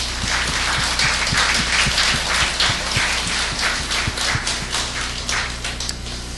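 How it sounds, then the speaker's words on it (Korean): A church congregation applauds missionaries and their wives in a steady, dense wash of clapping with low hum underneath, sustained throughout and slightly thinning toward the end. "우리 축복의 박수 하도록 하겠습니다"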